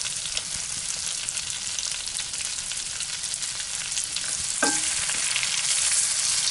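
Butter and diced onions frying in a pan for chanterelle mushroom biscuits, a steady close sizzle throughout with a brief clink partway through and slightly louder frying afterwards.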